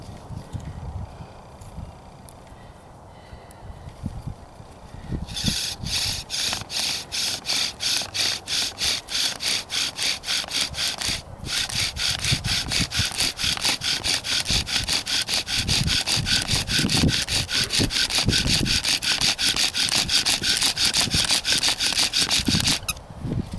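A wooden bow drill spindle spun hard with a rope, aiming for a fire ember: a fast, steady back-and-forth rasping of wood on wood. It starts after a brief quiet lead-in, then runs loud and continuous with a brief break midway.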